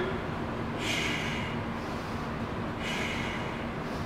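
Two forceful breath exhalations, close and airy, mark the lifts of a shoulder press with free weights during a home full-body workout, evenly spaced over a steady room noise floor.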